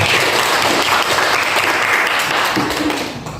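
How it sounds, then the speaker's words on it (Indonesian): A classroom group claps for the first group in a dense, sustained round of applause that stays loud and even and thins slightly at the end. "Oke, aplaus dulu untuk kelompok 1."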